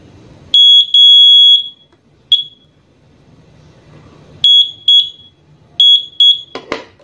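An electronic buzzer wired to a motorcycle signal light, powered from a jump starter, sounds in short, loud, high-pitched beeps: a long tone, a few quick pulses, then paired beeps repeating with gaps between.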